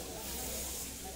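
Neurotoxin gas hisses out in the Henry Stickmin Collection video game, a faint, steady, airy hiss filling the whole short moment.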